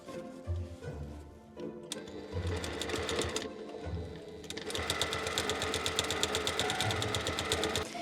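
A sewing machine stitches fabric for a medieval minstrel hat, its needle chattering in fast, even bursts that stop, start again and then run steadily. The machine is close and fairly loud, and no one speaks.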